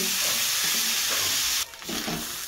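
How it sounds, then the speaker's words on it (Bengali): Shrimp stir-fry in a pan for a chingri bhorta, with a loud sizzle and a few spatula stirs. The sizzle drops off sharply partway through, then resumes more quietly. "এটাকে আমি এখন খুব ভালো করে ভাজা ভাজা করে নেব"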